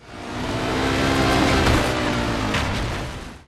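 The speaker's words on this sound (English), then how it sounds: "The crashes, the engine sounds, and all the other crackle and pops the game offers." Car engine roaring and revving in the stunt driving game Stuntman Ignition, a loud sustained rush swelling and easing over a few seconds with crackly bursts, no talk.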